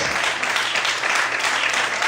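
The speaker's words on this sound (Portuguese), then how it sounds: "Podemos aplaudir a Deus por isso?" A church congregation claps together during a worship service, dense, steady applause filling the room throughout, close and loud.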